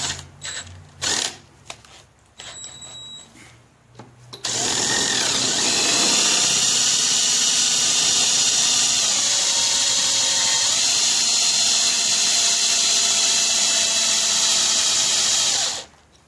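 A cordless drill clicks and whirs briefly a few times, then runs steadily at high speed for about eleven seconds before stopping.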